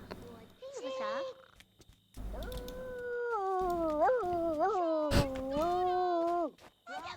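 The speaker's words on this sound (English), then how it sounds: "Where is this dog coming from?" A loud, wavering howl from a dog in The Sims 2 rises and dips over several seconds, preceded by shorter cries and broken by a sharp click, with faint game sounds around it.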